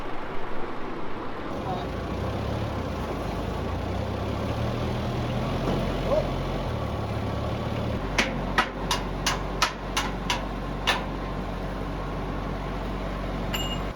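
Forklift engine idling steadily with a low rumble while helping lift a Rock-O-Plane amusement ride tower, joined late by a quick series of sharp metallic clicks or taps.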